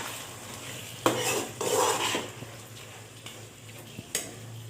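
Goat meat being stirred and fried in a pan with green chillies, jaluk pepper and a small tomato, a utensil scraping and clinking against the metal in a few bursts over a low steady hum, with no talk.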